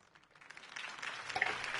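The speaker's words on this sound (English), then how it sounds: "could have heard that applause" Applause follows a Harvey Dent campaign speech in a Batman video game: crowd clapping begins softly, then swells into a steady, moderately loud round of many hands.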